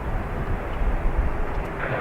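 A Logan Air aircraft taking off from runway 28 right at Dublin Airport, a steady, broad engine roar heard from a distance, continuous and unbroken with no talk over it.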